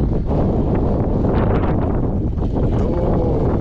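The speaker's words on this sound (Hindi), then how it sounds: "हवा चल रही है यहाँ पे" Strong, steady wind gusting across a hilltop sunset and sunrise viewpoint at Chakrata, buffeting the microphone with loud, continuous rushing noise that swells and eases without pause.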